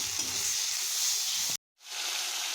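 Spice masala with salt and turmeric frying in oil, a steady close hissing sizzle that cuts out briefly and then resumes.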